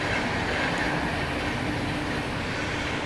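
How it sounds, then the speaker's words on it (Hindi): The Purva Express, Howrah to New Delhi, rumbles past at close range in a loud, continuous roar of wheels and wagons with no pauses. "इसको ओटी पड़ गया पूर्वा एक्सप्रेस द्वारा"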